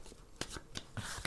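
Tarot cards are shuffled by hand in short, soft riffling bursts, several quick swishes and flicks in a row, close but quiet.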